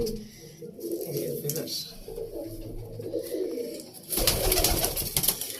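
Flying pigeons coo softly in low murmurs, followed by a sudden bright flurry near the end, while someone talks over them.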